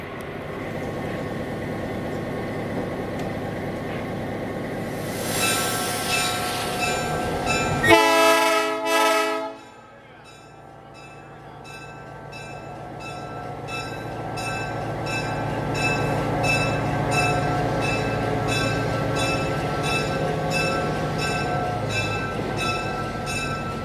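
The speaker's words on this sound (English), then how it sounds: "I guess they're putting it on a siding." A holiday excursion train in Sacramento sounds its horn loudly in a couple of long blasts, then the rumble of rolling railcars slowly builds as it is moved onto a siding.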